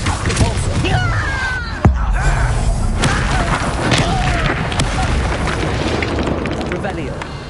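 A Repulso spell going off in Hogwarts Legacy during a chaotic fight, one sharp booming blast standing out from continuous crackling, thudding combat effects and voices.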